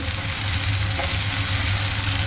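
Potatoes frying in a pan for Bengali aloo chorchori, a soft steady sizzle with a low continuous hiss and no voices.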